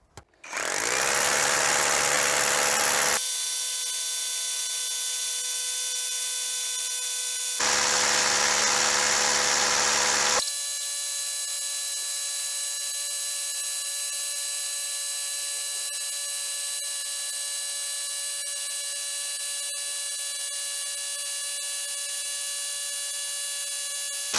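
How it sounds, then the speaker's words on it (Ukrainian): A Dnipro-M 201BC compact rotary hammer drives a 12 mm bit through granite, heard up close as a sustained high mechanical whine with two rougher, heavier bursts of hammering early on, then a steady running tone to the end. "Беремо бур 12 мм і лупашимо граніт насквозь."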